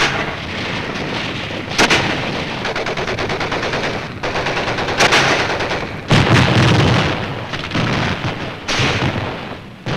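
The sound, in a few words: mortar barrage and machine gun fire, Iwo Jima combat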